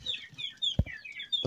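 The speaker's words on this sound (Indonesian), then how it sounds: "Jadi ini kita hari ini bikin video review ayam-ayam yang ada di kandangku ya guys." Young chicks about five days old chirp and cluck in a backyard brooding coop under a heat lamp, a busy run of high peeping calls with a few soft thumps, close and moderately loud.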